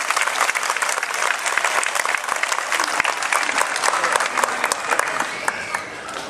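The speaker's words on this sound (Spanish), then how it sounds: "Mujeres, un aplauso a todas ustedes por estar aquí presentes y por apoyarme." An audience of women at municipal party offices in Acapulco breaks into loud, sustained applause, dense overlapping claps filling the whole stretch and easing off slightly at the end.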